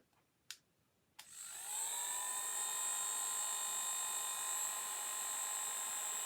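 A hot air styler clicks on and spins up into a steady, high whirring blow with a soft airy hiss, running evenly and fairly close.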